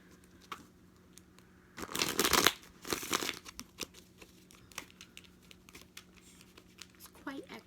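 Tarot cards are pulled and handled near a burning candle, giving a loud burst of shuffling and crinkling card noise in the middle, with softer scattered flicks and taps before and after.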